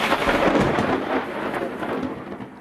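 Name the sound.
thunder rumbling and crashing in a thunderstorm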